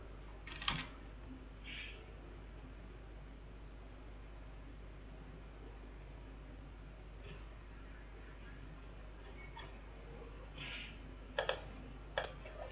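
A computer mouse clicks only a few times: a single sharp click near the start, then two quick clicks near the end, separated by a long stretch of quiet, steady background hiss.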